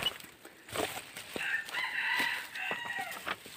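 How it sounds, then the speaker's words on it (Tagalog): Red junglefowl (labuyo) crowing outdoors in the countryside, a faint, somewhat distant series of crows and clucks with other birds calling in the background and no talking. "Nagpapakitang gilas agad mga katukoy yung labuyo ni Batang"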